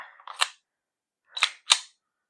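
KJ Works CZ SP-01 Shadow gas airsoft pistol firing on standard gas, three sharp close snaps, the first two quick together after a brief hiss, then a pause before the last pair.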